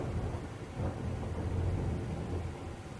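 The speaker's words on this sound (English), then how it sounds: "Thunder and lightning." Deep rolling thunder rumbling low and continuous over steady rain, swelling slightly in the middle and fading toward the end, with no voices.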